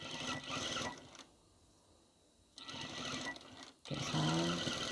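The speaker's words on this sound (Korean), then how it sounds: "이렇게 해서 한번 끝박음질로 스티치를 박음질 해주고요." A sewing machine runs in bursts, stitching the edge of a fabric cuff with a close, steady whir that pauses briefly before starting up again, louder at the end.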